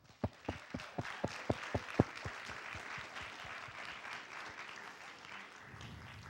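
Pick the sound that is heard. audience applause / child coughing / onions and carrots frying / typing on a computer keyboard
audience applause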